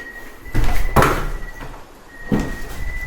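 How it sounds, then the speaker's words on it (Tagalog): A door in a mansion on a mountain swings and bangs shut with a sharp thud at night, followed by a couple more knocks and rattles as it settles, all fairly close and loud. "Sumasarado yung pinto."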